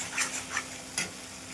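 Soybean curry masala sautéing in oil in a pan, a faint sizzle with a few brief scraping strokes of a spoon.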